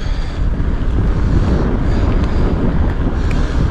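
Strong wind roars steadily and loudly across the microphone, a dense buffeting rumble that never lets up. No voices.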